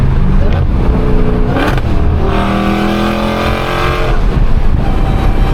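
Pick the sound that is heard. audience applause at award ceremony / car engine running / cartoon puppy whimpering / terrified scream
car engine running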